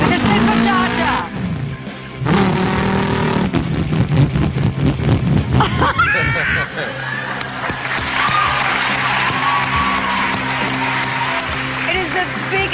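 A man vocally imitates a supercharged Shelby engine, his voice rising and falling through revving, skidding and screeching bursts, followed by crowd cheering and applause that continues loudly to the end.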